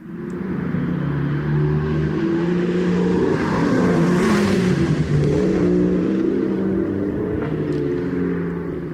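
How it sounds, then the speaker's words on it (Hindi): A sports car swelling into a loud, close pass, its engine roar building to a peak around the middle and then fading away, with no voices over it. "अब sports car passing by prompt का एग्जाम्पल देखो।"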